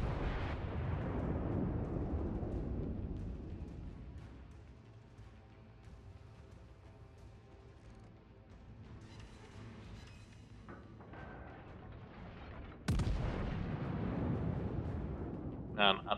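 Main guns of the battleship Missouri fire in World of Warships with heavy booming blasts: a loud salvo at the start, a rumbling fade, then another sharp, powerful salvo near the end, with no speech.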